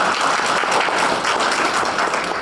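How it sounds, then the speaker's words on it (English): Clapping from an audience at a university Student Engagement Center groundbreaking ceremony, a steady, even patter of many hands lasting a couple of seconds. "Insert clap right there."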